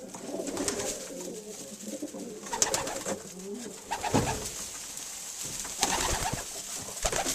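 Pigeons in a breeding loft coo repeatedly in soft, throaty phrases at close range, with wing flutters and light scuffing knocks scattered throughout.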